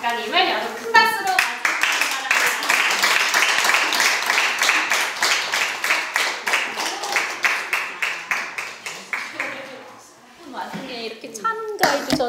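An audience at a book concert claps loudly in unison to welcome an author, a rhythmic, steady beat of hands for about eight seconds that gradually fades, with a few voices heard briefly before and after.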